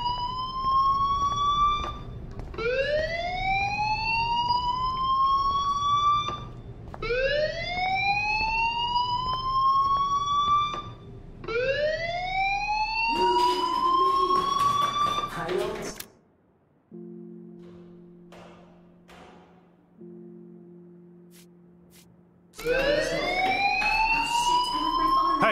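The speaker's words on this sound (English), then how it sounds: "Hey, do you hear that fire alarm?" A video game fire alarm wails in repeated rising whoops, loud and regular, then briefly drops to a lower steady two-tone pulse before the rising whoops resume.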